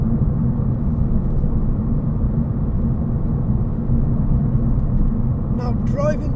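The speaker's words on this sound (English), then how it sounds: "That's the biggest amount of noise you're ever going to hear in this car. Tyre noise." Steady low roar of tyres on the road heard from inside a moving Vauxhall Corsa E, a dense continuous rumble filling the cabin throughout, with a brief voice starting near the end.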